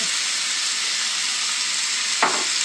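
Peppers and chopped yellow onion sizzle in a hot pan for venison steak and cheese sandwiches, a steady close frying hiss with a brief louder burst near the end as more onion drops in.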